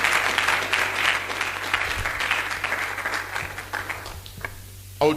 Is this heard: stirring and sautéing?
no